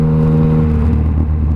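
A Yamaha MT-09 motorcycle fitted with a Black Widow 200mm exhaust revs close by, a loud, steady, deep engine drone that holds for a second and a half.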